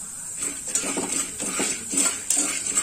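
Corn kernels and salt being stirred and roasted in oil in a pan, with a metal spoon scraping and clinking against the pan in irregular strokes over a constant high sizzle, close up.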